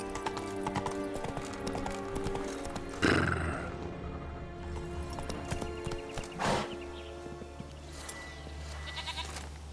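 Roach, a horse in The Witcher 3, clip-clops along in a steady hoofbeat rhythm with a couple of snorts or whinnies. The sounds are moderately close and layered over faint game ambience.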